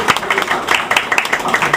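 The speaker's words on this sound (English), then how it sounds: "So we shall give them a round of applause" A brief burst of clapping from a small crowd at a gallery opening, close by and moderately loud.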